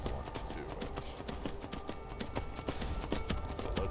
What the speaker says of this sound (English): horse mountain climbing, Skyrim horse mountain climbing